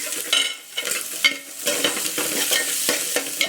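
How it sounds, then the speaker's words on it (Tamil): Sliced onions and dried red chilies sizzle and crackle in a hot pan while a spoon scrapes and stirs them in quick, uneven strokes, close and fairly loud, with no voices. "வெங்காயம் போட்டு நல்லா வணக்கிக்கோங்க காரத்துக்கு நம்ம வரமிளகா கிள்ளி போட்டுக்கலாம்"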